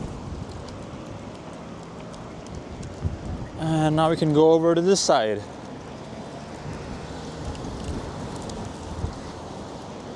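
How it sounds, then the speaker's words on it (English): Steady wind buffets the microphone throughout as a broad, rough rush, with a brief spoken remark partway through. "the wind is quite strong"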